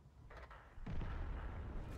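A tank cannon fires in World of Tanks on the Paris map, a single loud boom arriving about three quarters of the way in and rumbling on, with fainter blasts and battle noise before it.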